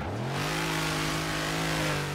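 A Dodge Challenger Hellcat rallycross build in Forza Horizon 3 revs hard with a loud, sustained engine roar that climbs slightly in pitch, close and continuous without talk.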